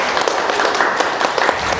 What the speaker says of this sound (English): Let's give a big round of applause for all of our pictures tonight.